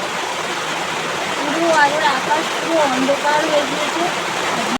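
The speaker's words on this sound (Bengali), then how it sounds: "প্রচণ্ড জোরে যখন বৃষ্টি হয়" Heavy rain pours in a dense, steady roar, with a faint voice briefly audible beneath the downpour.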